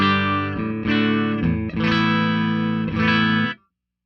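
An electric guitar played through a compressor pedal rings out in sustained, even chords, several strums held at steady loudness with smooth sustain before stopping abruptly, playing alone without talk.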